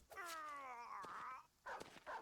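War dogs yelping in battle in Battle Brothers, a sharp rising yelp that bends into a whining cry, followed by shorter clipped yips and barks with brief gaps, close and clear.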